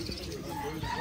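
Imported pigeons coo softly in a short, faint burst, with low murmuring tones and light chirps under background chatter.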